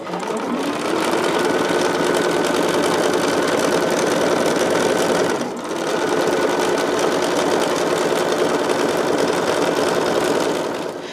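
A sewing machine runs steadily while stitching a jelly roll quilt, a loud, close, continuous mechanical whir with one brief dip in speed midway and no talking.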